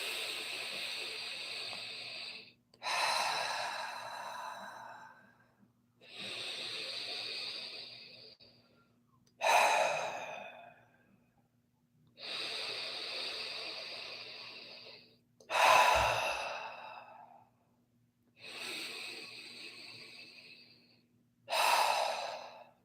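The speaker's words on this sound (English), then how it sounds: "Taking 4 deep breaths of gratitude." Slow, deep breaths during a guided meditation: eight long, close inhales and exhales in an even rhythm, each a breathy rush separated by brief quiet pauses, with no talking.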